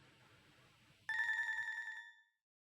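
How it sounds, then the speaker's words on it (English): A phone-like device rings in a pocket in a video game, a sudden loud bright ring cutting in over a quiet background and lasting about a second before stopping. "The device in my pocket started ringing"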